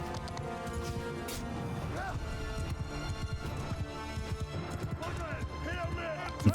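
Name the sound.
cavalry horses galloping in video game Mount & Blade II: Bannerlord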